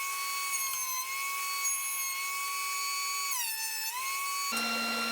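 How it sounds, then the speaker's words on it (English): Thickness planer feeding a cupped wood board, a loud steady high-pitched machine whine with pitch dipping briefly as the board loads the cutter, then a heavier rougher tone near the end; no talking. "Now I'm just going to run it a few times through the thickness planer"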